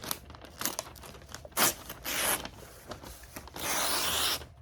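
A Gerber Versafix knife slicing and ripping thin Christmas wrapping paper, a series of crisp tearing and rustling strokes, close and fairly loud, with a longer sustained tear near the end.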